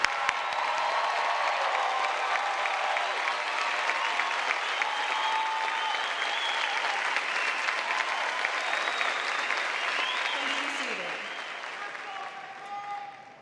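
Sustained applause from a large audience at a 2016 afternoon graduation commencement, steady and dense clapping that carries on for over ten seconds before tapering off, with no speech over it.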